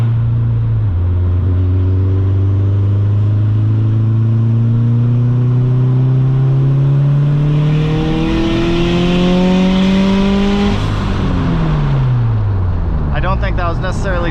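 A turbocharged car engine revs hard through a full-throttle pull from about 3,000 to near 7,000 RPM, its pitch climbing steadily and loudly through the gears, close and continuous.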